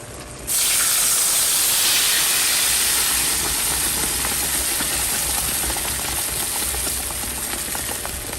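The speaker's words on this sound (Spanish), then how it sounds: "Le vamos a agregar un poquito de aceite para que se caliente. Vamos a agregar nuestra salsa." Salsa hits hot oil in a pan, bursting into a sudden loud, steady sizzling hiss that stays close and constant, easing only slightly toward the end.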